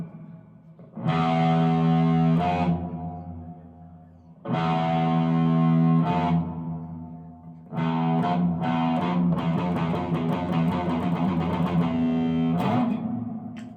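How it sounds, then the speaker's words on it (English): Heavily distorted electric guitar plays three sustained, droning phrases separated by short pauses, the last growing busier and more tremolo-like, loud and upfront. "I need some distortion on my guitar for this"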